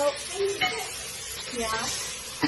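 Onion and tomato sizzle in a pan as they are stirred for soy biryani with ginger-garlic paste, a soft steady frying hiss with occasional spoon scrapes, under a voice talking.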